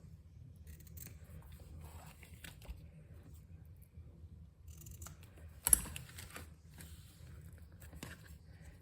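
Card being cut with scissors while making a spinner card, faint snips under quiet room noise, with one sharper, louder cut partway through.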